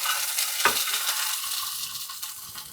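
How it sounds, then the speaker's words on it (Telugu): Eggs fry in a little oil with a steady close sizzle and hiss, one brief utensil clink near the start, the crackle easing slightly toward the end without any talk. "వీటిని కొద్దిగా నూనెలో వేసి వేయించుతా"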